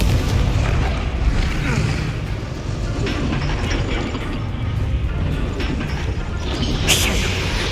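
A Confringo blasting spell explodes in Hogwarts Legacy amid dense, rumbling combat noise, with repeated booms and crackling impacts over a continuous heavy roar.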